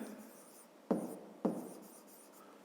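Pen or pencil writing out a 5th-grade math exercise on paper, with faint scratching strokes broken by three sharper taps or pen placements, close and quiet with no talk.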